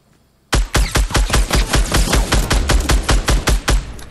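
A rapid, evenly spaced burst of about twenty loud gunshots erupts in a Fortnite gunfight and keeps firing steadily to the end, close and dominant with no talk.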